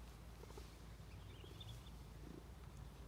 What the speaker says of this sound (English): You're purring.